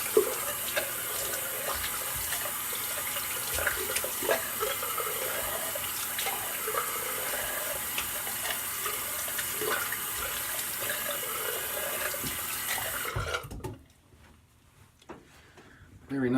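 Water runs steadily from a bathroom tap for rinsing off after a shave, a broad continuous splashing hiss close by that stops abruptly near the end, leaving quiet.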